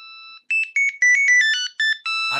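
A mobile phone plays a bright electronic ringtone for an incoming call, a quick series of melodic beeps, loud and close with nothing else around it.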